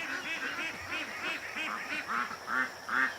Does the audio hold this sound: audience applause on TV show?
no